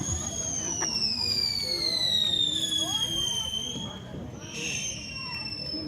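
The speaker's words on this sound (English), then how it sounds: "They're doing fireworks." Fourth of July fireworks set off outdoors: a long, high whistling tone slowly falls in pitch over steady crowd chatter and background noise, with a brief rushing burst near the end.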